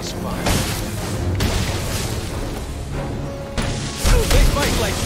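A building explosion in Batman: Arkham Origins comes as a series of deep, rumbling booms, several heavy bursts with a strong surge near the end, amid voices.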